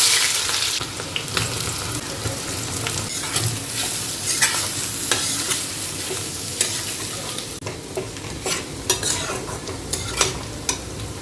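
Onions frying for birista in a pan give a loud, continuous sizzle with steady stirring scrapes and occasional sharp crackles close up, no voices.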